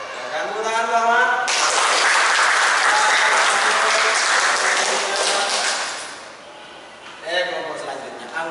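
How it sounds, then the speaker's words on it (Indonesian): Classroom applause for a student named Ahmad in an Indonesian school lesson, sustained dense clapping from the group for several seconds, fading out, with speech before and after. "Silakan tepuk tangan Ahmad."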